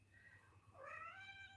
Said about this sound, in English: Sorry, kitty that's my cat.